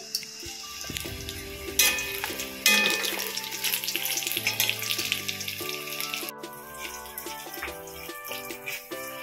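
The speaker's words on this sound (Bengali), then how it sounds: "ছেলের জন্য একটু বেগুন ভাজা করে নেব।" Eggplant slices frying in hot oil in a home kitchen give a steady, close sizzle with occasional stirring and clatter; tonal sounds run through the background.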